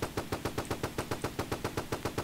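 Sustained automatic gunfire in a Roblox shooter: a fast, evenly spaced stream of about fifteen loud, uniform shots with no pauses, firing alone without voices.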